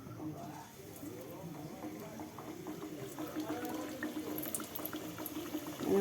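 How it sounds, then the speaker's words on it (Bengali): Khaja pastries frying in hot oil make a quiet, steady bubbling and crackle that grows slightly louder toward the end. "এবার একটা একটা করে তেলে ছেড়ে দেবো দেখো"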